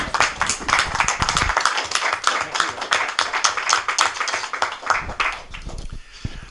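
An audience claps after a conference talk by François Bousquet, loud, dense rapid applause that carries on steadily, then thins out near the end.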